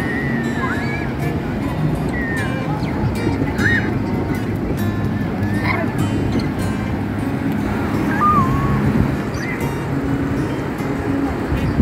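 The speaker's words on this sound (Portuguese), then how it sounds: "O mar tá bem forte, as ondas." Strong sea waves roll in on a cold, windy beach: a continuous broad rush of surf and wind noise, with faint voices and brief high calls drifting over it throughout.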